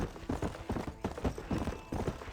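Horse hooves clip-clopping in Red Dead Redemption, a steady trotting rhythm with close, even beats and no talk.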